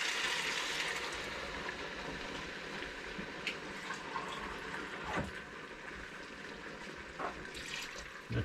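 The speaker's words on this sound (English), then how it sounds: "add the water now." Water poured into a pan of almonds while cooking a Moroccan pastilla, a soft steady splashing and trickling that stays quiet and continuous, with a few brief clinks.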